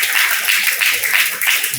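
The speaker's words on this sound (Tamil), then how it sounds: "ஒரு கைத்தட்டல் கொடுத்துடலாமா?" An audience claps in applause at a blood donation awareness event, a steady bright patter of many hands that carries on through the whole stretch.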